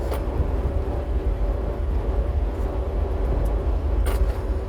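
Car driving on a road heard from inside, a steady low rumble of engine and tire noise with a faint hum, continuous and fairly loud, no talk.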